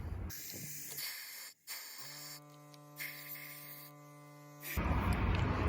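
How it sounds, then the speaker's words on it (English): Compressed air blasts out of the spark plug wells of a Ford Expedition 5.4 3V Triton engine, several loud hissing bursts close by, with a steady compressor hum droning underneath. "let's go ahead and put our air compressor in there"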